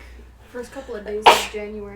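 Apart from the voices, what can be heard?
sneeze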